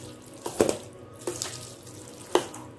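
Milk poured into thick curd vermicelli (thayir semiya) in a home kitchen: three short liquid splashes and gurgles, close and fairly clear, spaced apart with quiet between them and no voices.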